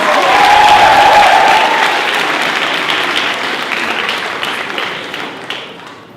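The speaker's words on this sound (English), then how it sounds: "Please give a massive round of applause for the science department!" A school staff revue audience applauds loudly and continuously, the dense clapping strongest at first and tapering gradually over about six seconds.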